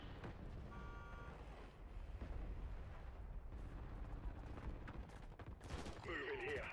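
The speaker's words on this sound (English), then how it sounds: "Hostile mortar strike incoming." Mortar strike explosions in a military video game, a dense run of booms and crackling blasts over steady battlefield rumble, with brief electronic tones and a radio-like voice near the end.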